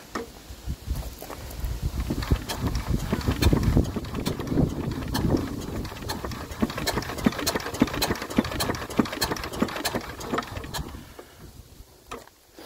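An Enfield twin diesel engine cranks over without firing, giving a steady run of mechanical knocks and clatter at moderate loudness that fades at the end.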